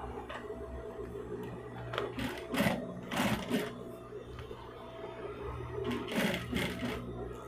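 A sewing machine stitches a handbag at stitch length 3.5, running in short bursts of rapid mechanical whirring with brief pauses between them, close and steady over a low motor hum.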